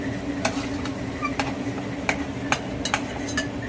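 Fish curry masala sautéing in oil in a pan, a low steady sizzle broken by sharp irregular clicks and taps of a stirring spoon, close and fairly quiet with no talk.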